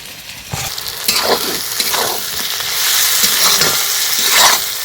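Ginger-garlic paste fries in a pan for a chicken and cauliflower dish, making a loud, close, hissing sizzle broken by several scraping stirs with the spatula.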